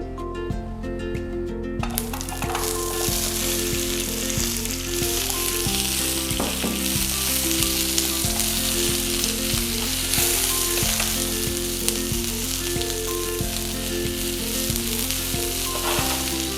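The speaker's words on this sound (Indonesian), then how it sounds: "Nah ini kita mau tumis sampai dia layu supaya nanti waktu menghaluskan kita lebih cepat dan mudah" Shallots and garlic sauté in hot oil for sambal, a loud steady sizzle that flares sharply as the ingredients hit the pan, with occasional stirring scrapes and no talking.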